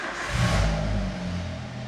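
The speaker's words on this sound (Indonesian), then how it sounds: "Kita coba starter." A car engine cranked on its starter and catching, with the ignition on and a diagnostic scan tool connected, a swelling mid-range rumble that peaks early and settles into a steady, close idle.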